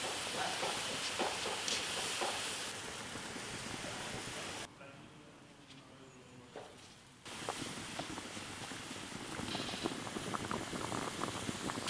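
A wood-fired clay stove burns under a pot of cooking bamboo shoots, giving a steady, dense roaring hiss with faint crackles that dips quieter midway before swelling back.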